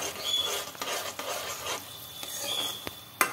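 Rice is stirred into kesari in a pan, giving close, repeated scraping and soft sloshing strokes of a spoon over a light sizzle, ending in a sharp metallic clink, with no voices.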